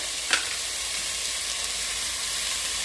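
Red peppers, onions and garlic sizzle steadily in a hot pan, a dense, even frying hiss with a brief stir or clink near the start and no voices.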